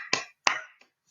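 Hands clap an even quaver rhythm, two claps per beat: two sharp, close claps about a third of a second apart, then a third, much fainter clap, with no voices.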